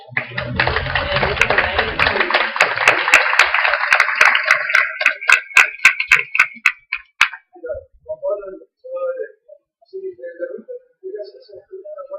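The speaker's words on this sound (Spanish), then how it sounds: "entonces le vamos a dar un aplauso." Audience applause at a panel on school life stories and trajectories: a dense burst of clapping from the seated crowd that thins into scattered individual claps and fades out after about seven seconds, followed by quieter speech.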